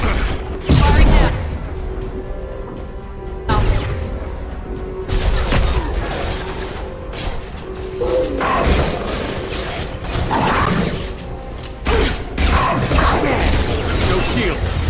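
Gunfire in the Mass Effect 2 video game: bursts of weapon fire and heavy thumps in combat, separated by short lulls, with squad voices calling out over the action.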